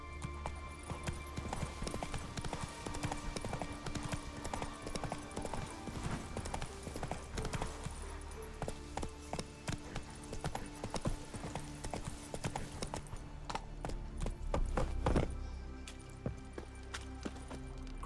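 A horse gallops in The Witcher 3, with a rapid, continuous run of hoofbeats close up over a long stretch and a brief neigh partway through.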